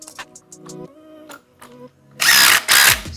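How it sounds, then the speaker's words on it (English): Impact driver on a 79cc Predator-engined mini bike giving two short loud buzzing bursts as bolts are tightened, after a stretch of quieter clinking and handling nearby. "He's getting confident with the impact."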